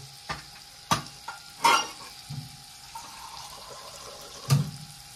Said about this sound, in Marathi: आता टोमॅटो टाकलंय आणि मस्त पैकी घाटून ते बघा